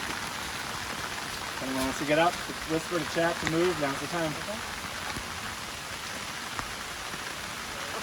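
Rain falls steadily outdoors in an even, hissing patter that continues throughout, while someone speaks briefly over it in the middle.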